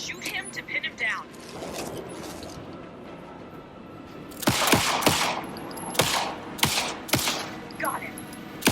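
Sharp, spaced gunshots ring out in Alan Wake 2 during a fight against a fast-moving enemy, several distinct cracks over a low ambient rumble, with voices speaking between them.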